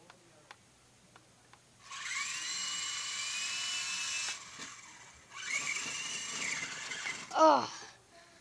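A toy remote-control helicopter motor whines in two steady high-pitched runs, close to the listener, with a short pause between them and a brief sharper burst near the end.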